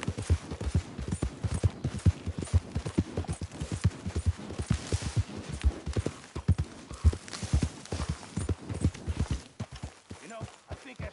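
Horse hooves clip-clopping in a PS4 video game, a steady rhythmic trot of close, sharp hoof strikes running throughout, with voices talking over it.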